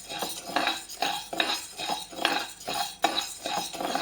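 Urad dal dry roasting in a pan while a utensil stirs it steadily, close rhythmic scraping and clinking strokes about every half second, with no voices.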